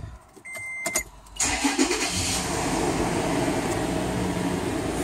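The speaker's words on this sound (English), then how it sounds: "I can keep the motor running, go through the gears" The engine of a Toyota FJ Cruiser with a five-speed A750E automatic transmission cranks briefly, catches, then settles into a steady, close running hum.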